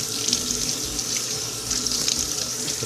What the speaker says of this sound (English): So then I use sink water.